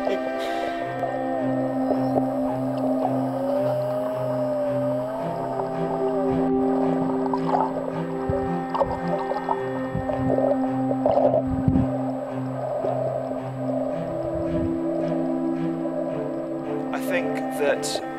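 Pilot whales vocalize underwater in a steady chorus of whistles, clicks and tonal calls that continue throughout, with the low hum of a nearby boat persisting underneath.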